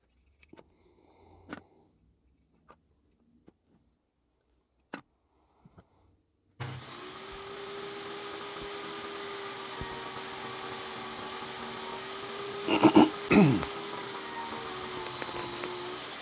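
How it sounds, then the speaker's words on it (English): A power tool, likely a saw, spins up after a few quiet taps and handling knocks, then runs in a steady whine while making a test cut on a wooden board for a small box, with a brief louder burst near the end. "That's a test cut."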